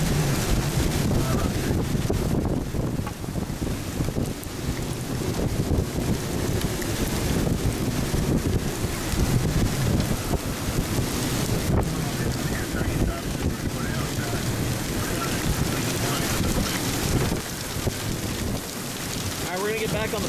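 Strong, steady wind roars over a vehicle in a hail storm near Springfield, Colorado, with dense pelting of rain and hail on the surface throughout, loud and continuous with no clear speech.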